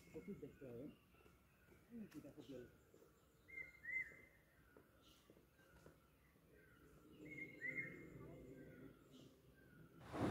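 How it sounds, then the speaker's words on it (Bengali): A small bird calls near Khecheopalri Lake in quiet hills, giving a few brief, faint chirps at intervals over low background sound and murmured speech. "নিস্তব্ধতার মধ্যে নাম না জানা পাখিটা ডেকেই চলেছে তার নিজের খেয়ালে।"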